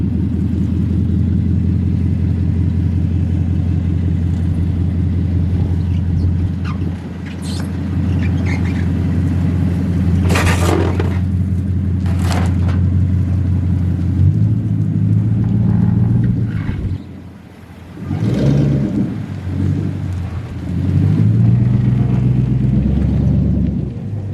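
A slammed Lexus LS400 engine idles warm with a steady low rumble close by, its tone wavering and briefly dipping near the end, and no talking is heard.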